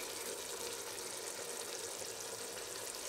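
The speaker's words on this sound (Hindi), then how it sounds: "अब मसाला भूनेंगे अच्छी तरह" Ground spices, including salt, curry powder, red chilli and coriander powder, roast in a pan with a steady, soft sizzle that stays even and unbroken throughout, close and moderately quiet.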